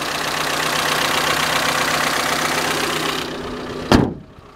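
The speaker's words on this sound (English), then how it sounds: "Little bit of valve lash, but it's a Honda Civic." A stock Honda Civic engine idles with a steady, even hum and a faint ticking of slight valve lash, close and alone, before the running sound cuts off abruptly near the end with a brief thump.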